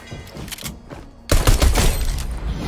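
Pistol gunfire in a shooter video game: a few isolated shots come first, then a loud, dense burst of rapid firing fills the second half.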